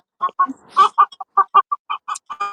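Backyard chickens cluck close by in quick, uneven bursts, with a louder squawk among the short clucks.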